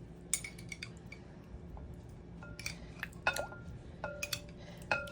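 A metal spoon clinks against a dish while pizza sauce is spooned onto eggs, a handful of sharp, light taps and scrapes spaced irregularly over a quiet room background.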